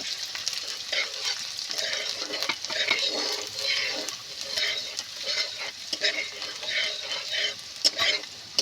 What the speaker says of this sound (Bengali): রসুন আর আদা লাল লাল করে আমার ভাজা হয়ে গেছে।